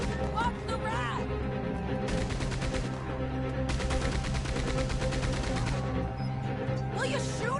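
Red Dead Redemption 2 gunfight with bursts of rapid gunshots over a busy game soundscape and voices, with two dense volleys of shots in the middle and scattered cracks around them.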